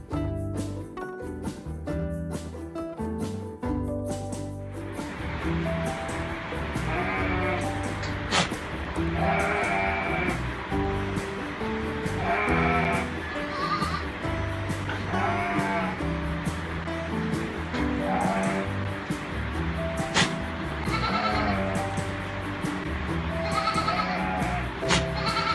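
Damascus goats bleating, repeated wavering calls over a steady background of other sound, moderately loud and continuous, with no talking.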